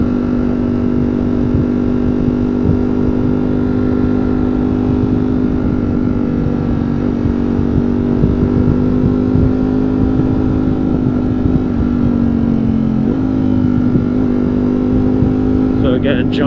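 A 2022 Ducati Streetfighter V4S riding through New York City streets, its engine droning loud and steady throughout, with slight shifts in pitch as it changes gears.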